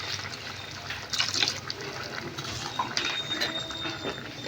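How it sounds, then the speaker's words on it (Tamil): Masala water is poured from a vessel into a simmering curry, a soft splashing trickle with a few brighter splashes, fairly quiet against a low kitchen background. "சேர்த்துட்டு மசாலா தண்ணியும் கொஞ்சம் ஊற்றிக்கலாம்."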